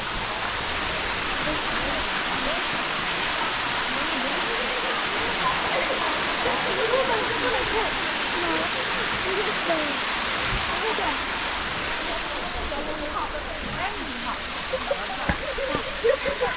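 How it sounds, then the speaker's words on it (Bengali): A waterfall in Shillong, the first of three falls, roars as a steady broadband rush of cascading water that fills the whole stretch at constant loudness, close and unbroken, with no talk over it. "যে ফলসটা আপনাদের দেখালাম এটা হচ্ছে প্রথম ফল ফার্স্ট ফল"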